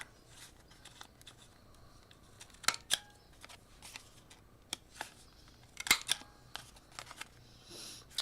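A craft cutter trimming the corners of paper, faint scattered snips and clicks separated by quiet gaps, with soft handling noise and no talking.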